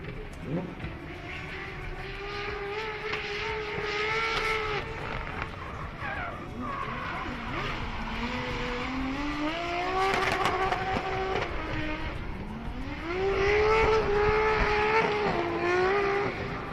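A dual-turbo drift car works around a track with a rising and falling engine wail and tyre squeal that swell louder toward the end, while a commentator talks over it.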